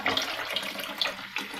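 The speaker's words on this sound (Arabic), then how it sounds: "هبدا بقى افتح الحنفيه" A kitchen tap runs into a sink while lamb intestines are rinsed, a close, continuous splashing gush with small bursts as the flow is moved about.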